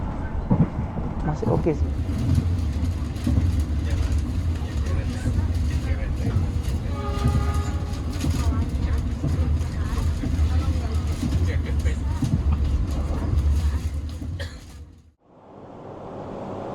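Steady low rumble and rolling clatter inside a business-class carriage of the Malabar passenger train, with a brief tonal squeal midway and a person talking over it before the noise cuts off near the end.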